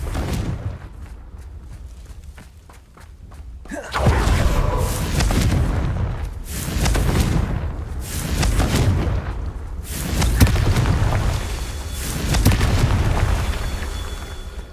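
Confringo explosive spell going off in a video game, a series of loud booming blasts with rumbling low bursts that repeat every few seconds after a quieter opening.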